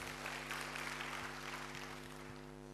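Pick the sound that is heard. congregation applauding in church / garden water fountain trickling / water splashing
congregation applauding in church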